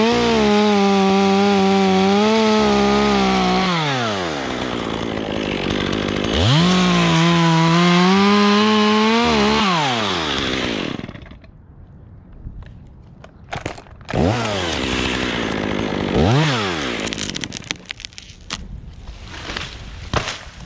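A chainsaw opens up the notch in a tree branch below the union, its loud engine revving in two long cutting passes, dropping briefly, then cutting again in shorter bursts.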